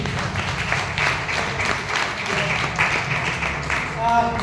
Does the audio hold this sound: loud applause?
yes